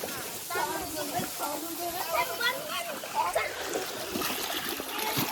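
Water pours hard from a rooftop gutter spout onto a roof where water has been stored in hot summer weather, a steady rushing splash that continues under excited voices talking.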